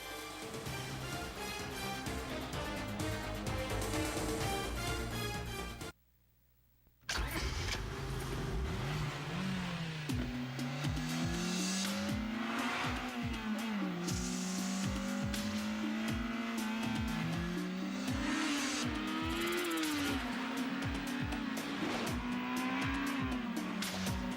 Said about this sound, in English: 200 horsepower Acura RSX.